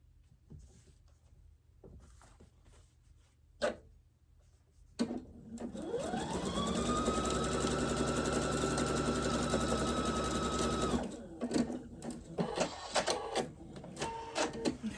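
A sewing machine runs steadily for about six seconds while sewing a quilt section, its motor whirring and rising in pitch at the start, framed by quieter handling noises before and after.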